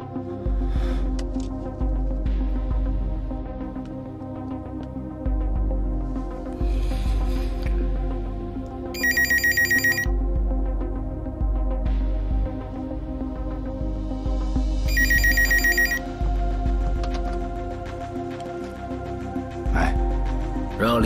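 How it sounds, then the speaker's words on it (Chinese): A telephone rings in two short, bright, trilling bursts several seconds apart, heard over a continuous low, tense musical score. "让李俊杰听电话"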